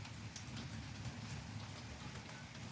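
Rain falls steadily, a soft continuous patter and hiss of drops on surfaces, fairly faint and even from start to end, with no voices.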